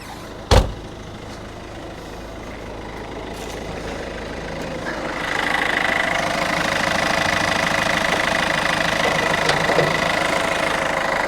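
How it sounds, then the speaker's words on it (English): A 20-year-old Peugeot 206cc engine idles steadily with a constant rumble, close and fairly loud, after a sharp click at the start and a rise in level partway through. "Yeah, the engine sounds good, looks clean for 20 years old."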